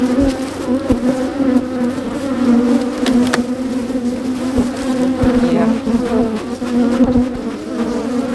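Honeybees caught in a swarm trap buzz loudly and close by during a hive inspection, a dense, steady drone with occasional soft knocks from handling the hive boxes.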